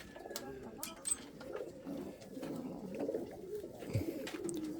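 Fancy pigeons, Indian fantails, pouters and frillbacks kept for breeding, coo softly in low repeated murmurs alongside scattered chirps and light knocks, fairly faint and close.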